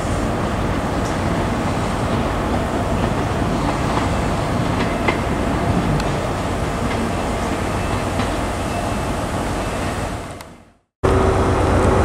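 A train at Plymouth station on the Great Western main line, with a Class 153 unit at the rear, makes a loud, continuous rumble and rail noise that fades out and then cuts off abruptly near the end.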